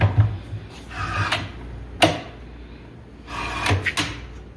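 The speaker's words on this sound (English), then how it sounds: "Place my drawer box on my guides." A ready-to-assemble wooden drawer box is set onto its drawer guides, giving a few soft knocks and sliding scrapes with brief clacks spaced across a few seconds.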